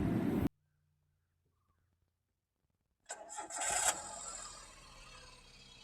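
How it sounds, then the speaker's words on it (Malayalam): After a stretch of near silence, a 2013 Maruti Suzuki Alto 800 cranks briefly, catches, revs and then settles into a quieter steady idle, heard close by with no talking. "എന്തായാലും നമുക്ക് എൻജിനൊന്ന് സ്റ്റാർട്ട് ചെയ്ത് നോക്കാം."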